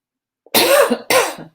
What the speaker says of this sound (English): That's a conviction cough.